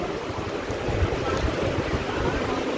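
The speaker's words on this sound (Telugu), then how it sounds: "వాటర్ ఫ్లో చూడండి ఎంత ఫాస్ట్గా వెళ్తుంది." Fast-flowing Alaknanda river water near Badrinath rushes in a dense, continuous roar, loud and close, mixed with wind buffeting the microphone.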